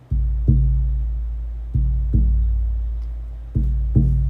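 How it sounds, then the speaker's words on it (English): Deep, resonant buffalo drum beats in a slow heartbeat pattern, pairs of strikes at about 0.5, 1.75–2.1 and 3.6–4.0 seconds, each booming and then ringing out. "So this is the sound of the drum."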